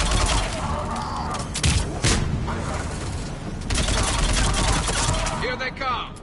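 Combat gunfire in the Mass Effect 3 video game comes as rapid bursts and sharp cracks over a dense battle din, loud and close, with shouting voices mixed in.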